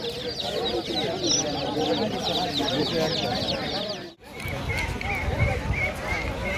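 Chickens and chicks for sale at a rural Bangladeshi market chirp and cluck busily and close, amid dense market bustle with people talking nearby.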